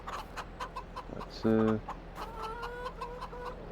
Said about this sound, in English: let's grab a couple more roosters